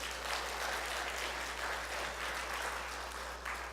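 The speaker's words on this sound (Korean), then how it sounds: "동의하시면 우리 크게 한번 격려의 박수 한번 부탁드립니다." A church congregation applauds its choir in a long, even roar of clapping at moderate volume over a steady low hum in the sanctuary.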